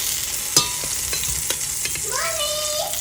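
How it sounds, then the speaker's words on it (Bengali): Brinjal slices coated in salt and turmeric go into hot oil and fry with a steady close sizzle, a few sharp clatters of the pan and a rising squeal near the end, with no talking. "বেগুনগুলোতে লবণ হলুদ মাখিয়ে নিয়েছি এবার ভাজা করতে দেবো"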